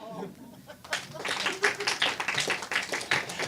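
Scattered clapping from a comedy club audience during a stand-up contest set, a loose cluster of claps rising mid-clip, with the comedian talking over it.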